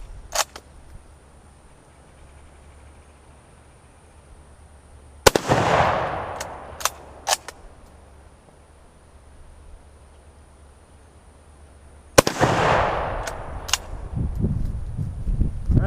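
Two loud, sharp rifle shots from a No4 Mk1 Enfield fired at the range, each followed by a long rolling echo, with a few faint clicks between them and no talk.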